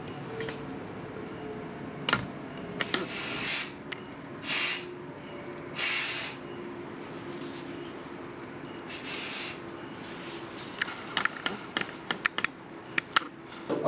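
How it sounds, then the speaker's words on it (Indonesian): Dye penetrant test spray being sprayed onto material, several short separate hissing bursts close by, with faint clicks and taps between them and a quick run of ticking near the end. "saat menyemprot, lakukan semprotannya itu dengan searah ya, jangan bolak-balik kayak gitu."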